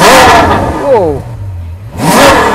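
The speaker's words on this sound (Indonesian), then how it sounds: "Penasaran dengan suara mesin V12? Kita coba dengerin ya." A powerful Ferrari V12 engine revs sharply twice, rising and falling in pitch with a throaty roar, while a person exclaims briefly between revs.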